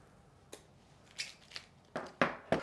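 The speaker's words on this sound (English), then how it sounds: "Go ahead and start by getting this peel off of here." Protective film being peeled off an EpoMaker DynaTab 75 keyboard, with several short crackling rips spaced irregularly close to the microphone and the last three coming in quicker succession.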